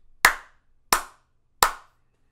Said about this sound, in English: We're gonna clap three times.